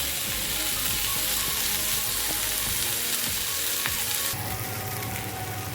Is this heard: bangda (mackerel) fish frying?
yes